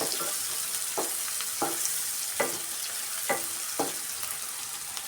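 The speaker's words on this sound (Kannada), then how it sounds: "ಗೋಡಂಬಿ ಪೀಸಸ್ಸು ಫ್ರೈ ಆಗ್ತಾ ಇದೆ" Cashew pieces fry in hot oil in a pan with a steady, soft sizzle, broken by a handful of sharp scraping taps of the spoon as they are stirred, close and fairly quiet.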